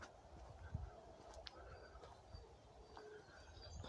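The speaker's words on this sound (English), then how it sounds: "Lots of bird songs." Wild birds sing and call faintly in an open field with a bull nearby, scattered chirps and soft cooing drifting from a distance over a low outdoor rumble.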